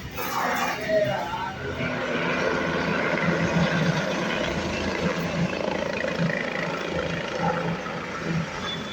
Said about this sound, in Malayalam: അങ്ങനെ ഒരു ഹെലികോപ്റ്റർ പറന്ന് ഇറങ്ങി.